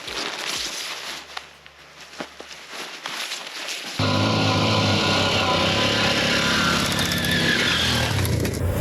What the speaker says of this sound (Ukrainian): Ці відчуття, коли я і мій вірний друг мотоцикл